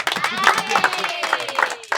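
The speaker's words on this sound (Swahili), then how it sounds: "Tujipigie makofi." An audience claps steadily in a continuous patter of hand claps, with a voice talking loudly over the applause throughout.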